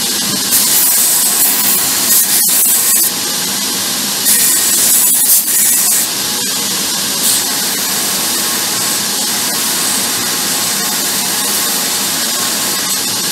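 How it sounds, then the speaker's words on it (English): Rust is scrubbed off a steel leaf spring with a power tool before welding a forged tomahawk, a loud continuous grinding roar with hissing bursts and sharp clicks, close by and without speech. "Because the leaf spring's rusty, I'll clean it up a little bit."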